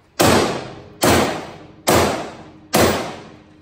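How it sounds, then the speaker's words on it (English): Four loud, evenly spaced hammer blows ring out on the damaged frame of a 2019 Polaris RZR Turbo XP, each a sharp metallic thud that decays before the next strike, with no talking. "Try to hammer down."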